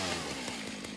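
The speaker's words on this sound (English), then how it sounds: "let's get the chainsaw out. I'm gonna clean up the brush" A chainsaw in the video game Satisfactory runs steadily while clearing brush, its continuous loud motor buzz filling the whole moment without pause.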